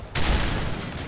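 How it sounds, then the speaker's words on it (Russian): Sustained burst of rapid gunfire from Call of Duty: Modern Warfare 3 multiplayer, loud and dense, starting abruptly and continuing as a steady volley. "Кто стреляет?"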